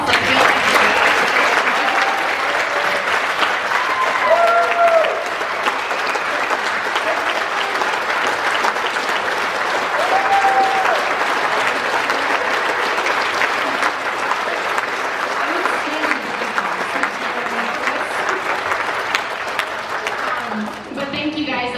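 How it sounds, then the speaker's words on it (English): An audience applauds after a US Senate debate, with dense, sustained clapping from a crowd in a hall that continues for around twenty seconds and gradually thins toward the end. "So now let's give them a round of applause."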